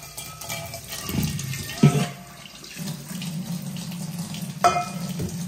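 Water runs steadily from a tap onto an iron wok, with a couple of sharp clanks as the wok is handled; no talking.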